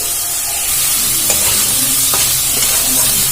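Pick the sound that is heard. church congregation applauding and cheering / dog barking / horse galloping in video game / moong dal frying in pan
moong dal frying in pan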